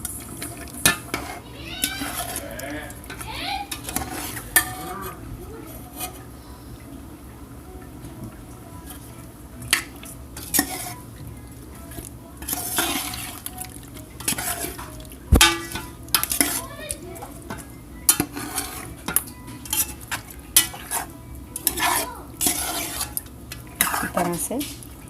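Biryani masala stirred with a metal spoon in a cooking pot, giving repeated scraping clinks and clanks against the metal at close range, alone with no one talking.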